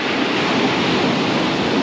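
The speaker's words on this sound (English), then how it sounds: "That's the waves coming in." Waves break on a shingle beach as a continuous, broad roaring wash, loud and close, with no speech or other distinct sounds.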